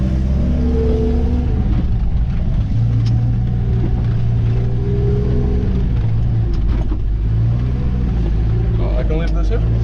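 A snow plough vehicle drives through fresh snowfall with a steady low engine rumble throughout, shifting slightly in pitch, while a person talks over it.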